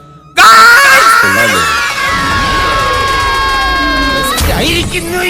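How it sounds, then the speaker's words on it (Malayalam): A single loud, sustained scream starts abruptly and holds for about four seconds, then drops away into muffled noise. "അലർച്ചയായിരുന്നു"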